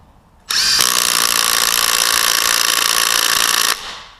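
A small Makita cordless impact wrench tightening a bolt: a loud, close, continuous rattling hammer burst lasting about three seconds, then cutting off to a brief motor wind-down.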